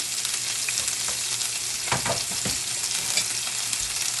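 A medium white onion fries with a pound of ground meat in a hot pan, sizzling steadily, while a utensil scrapes and stirs in a few short bursts near the middle.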